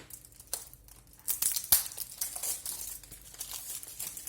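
Chocolate bar wrapping torn and crinkled open by hand, a series of close, irregular crackling rustles that start faint and grow busier and louder.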